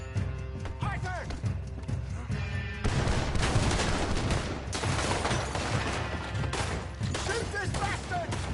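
Gunshots in Red Dead Redemption 2: a noisy, dense stretch of firing fills the middle of the clip, with horses and shouting voices around it.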